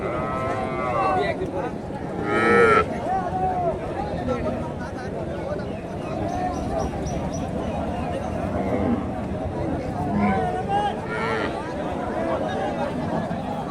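A Sahiwal cow moos loudly near the start, with another fainter low call later, amid outdoor chatter and people talking nearby at a cattle market in Naogaon.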